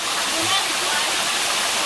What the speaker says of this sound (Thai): น้ำตกชนะเถียนตำบลบางพระ อำเภอศรีราชาจังหวัดชลบุรี